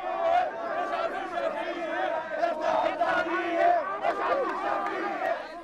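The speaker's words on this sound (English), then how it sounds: "The crowd tries to break through the cordon to harangue Prime Minister Shafiq at the Parliament buildings" A protest crowd near the Parliament buildings shouts and roars steadily as it presses against a police cordon, a dense, loud wall of many voices throughout.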